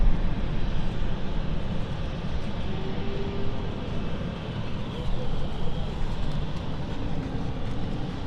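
An aircraft at London City Airport, the flight to Nice, sits under a loud, steady broadband engine roar and rumble, heard from nearby without clear changes.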